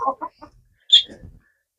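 Chickens in an outdoor run cluck in a few short, close bursts, then one sharper squawk followed by softer, low clucking.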